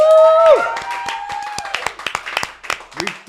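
A loud whooping cheer gives way to scattered, uneven hand claps from a small group, building into a short burst of applause.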